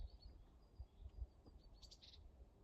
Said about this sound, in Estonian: linnud laulavad